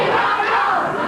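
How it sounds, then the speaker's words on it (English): A dense wrestling arena crowd hollers and chants loudly and continuously, a massed roar of voices filling the hall. "Crowd's hollering, we want Paul"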